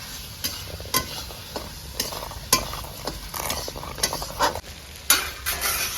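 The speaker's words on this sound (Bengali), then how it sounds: "মশলাটা আমার ভাজা হয়ে গেছে" Spice paste frying in oil in a pan for a royal-style cauliflower dish, with close, steady sizzling and repeated scraping stirs of a spoon against the pan, no voices.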